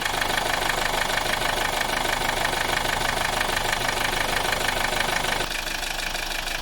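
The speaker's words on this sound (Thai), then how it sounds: "เสียงเครื่องยนต์นะคะ เดินเรียบปกตินะคะ" A 2023-era Chevrolet Captiva diesel with 172,023 km idles with a steady, even mechanical clatter that fills the whole stretch, easing slightly quieter near the end.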